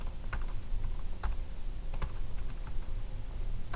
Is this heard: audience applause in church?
no